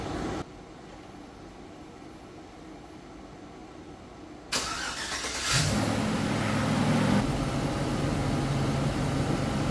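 A Chevy or GMC van engine, just reconnected after bumper welding and with a drained heater core, starts up partway through and settles into a steady close idle with a low hum, with no talking.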